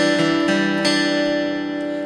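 Acoustic guitar playing a song, sustained strummed chords ringing close and clear with a bass line stepping downward, a few distinct strums fading out over the short phrase.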